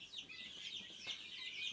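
Chickens cluck faintly in the background, soft scattered bird calls over a quiet outdoor ambience.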